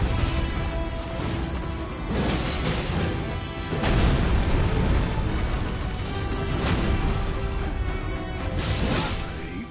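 Fiery explosions in an Elden Ring boss fight, several heavy booms and crashing bursts arriving in waves with whooshing surges between them, loud and close.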